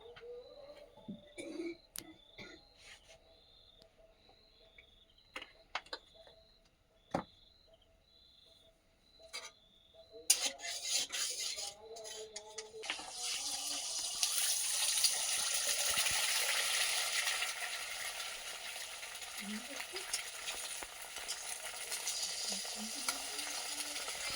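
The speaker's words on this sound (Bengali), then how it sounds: "এবার তাহলে ডিমটা ভেজে নেব ঝুরো ঝুরো করে" Eggs scrambled and fried in a pan for homemade chowmein, starting with scattered clinks and taps, then settling into a steady, close sizzle that runs continuously without speech.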